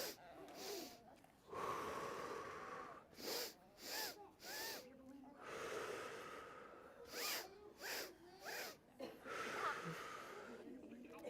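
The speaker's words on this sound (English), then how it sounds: "So I'm going to blow up a balloon." A person breathes in deeply and puffs out hard, as if blowing up a balloon. Loud breathy exhales and sharp intakes repeat in an uneven rhythm for about eleven seconds, close to the microphone, with some voiced, snort-like edges.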